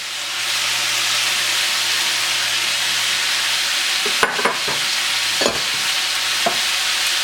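Mushrooms stir-frying with sauce in a hot pan for vegetable japchae, a loud steady hissing sizzle that holds throughout, joined near the end by a few sharp scrapes and knocks of a utensil.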